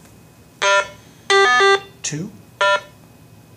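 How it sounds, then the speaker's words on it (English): RATH Smartphone 5 ring-down phone programming tones: a short electronic beep, a harsh buzzing blat error tone, a lower swooping blip, then another beep, each separated by quiet gaps. "So you will hear a beep, blat for the missing LED, and then beep, beep, beep."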